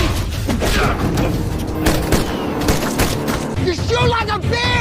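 Movie shootout gunfire between an ex-military man and gangsters: dense bursts of gunshots and sharp cracks pile up over rumbling booms and action-scene sound, with shouted voices near the end.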